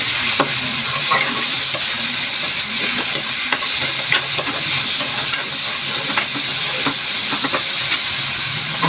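Chicken with garlic, onion and tomato sautés in a pan, giving a steady loud sizzle and hiss with repeated scraping stirs of a utensil against the pan throughout, and no talking.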